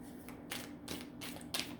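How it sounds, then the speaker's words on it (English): A glossy-finish tarot card deck is being shuffled, making four quick riffling bursts about every third of a second. The sound is soft and close, with no talking. "It shuffles pretty well, though. So we will just shuffle and pull a card"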